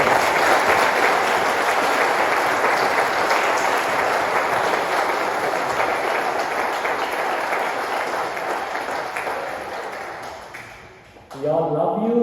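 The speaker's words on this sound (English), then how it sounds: "Let us give them once again a big round of applause." Sustained, dense applause from a large crowd at a 50th wedding anniversary celebration, steady and loud for about eleven seconds before fading out, followed by a brief burst of tonal sound.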